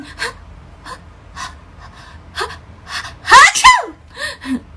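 A single close, forceful human sneeze comes late, after several quick breaths and small vocal gasps leading up to it, then a couple of soft breathy sounds trail off in an otherwise quiet setting.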